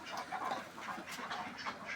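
Khaki Campbell ducks on a duck farm quack repeatedly in overlapping, irregular bursts at moderate distance, with no talking.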